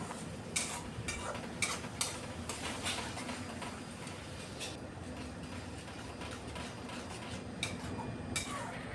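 Tomatoes and spices sauté in a pan while being stirred, making a continuous close sizzle with a spoon scraping and clinking against the metal at irregular moments.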